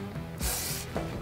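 Cleaner sprayed onto mountain bike brake pads and rotors, one short close hiss of under half a second between faint handling noises.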